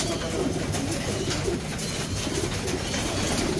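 Pigeons coo continuously in a dense, low, throaty chorus while they are fed, with broadband rustling and flutter layered over the calls.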